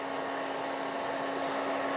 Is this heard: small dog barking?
no